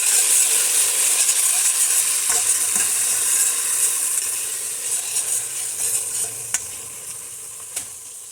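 Crushed chili pepper and onion sizzle steadily in hot red oil for a vegetable soup, a dense continuous hiss with a few light clicks of a stirring spoon near the end.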